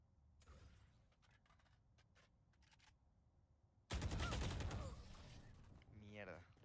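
Gunfire in the tactical shooter Valorant during a tense three-versus-three round: scattered single shots and short bursts, then a loud sustained volley of rapid fire, with a faint voice underneath.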